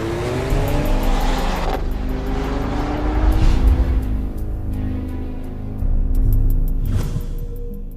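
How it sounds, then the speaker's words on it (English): A 2014 Mercedes-Benz CLA45 AMG with twin-clutch transmission and all-wheel drive accelerating hard, with a loud rising engine note and a brief tire squeal, then easing off before a second strong pull. "With so much torque on tap and Ford-driven contact patches, the 45 accelerates impressively"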